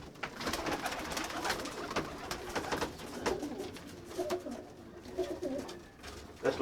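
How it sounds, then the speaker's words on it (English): Roller pigeons coo softly and repeatedly at close range in a loft, with faint fluttering and shuffling between the calls. "The rest of the birds in here, here's a blue cock that I borrowed from Carl Dorton."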